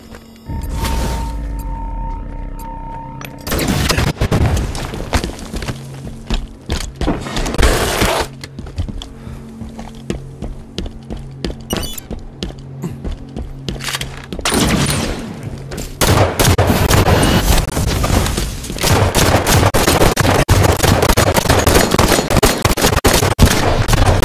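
Gunfire in the video game Halo 5: bursts of rapid automatic shots and heavy blasts, loud and close, with sustained volleys filling the second half and quieter gaps between bursts.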